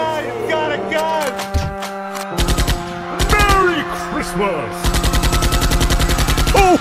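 Gunfire from a handgun or automatic weapon crackles in rapid bursts, with a sustained machine-gun-like volley near the end, set against an orchestral film score.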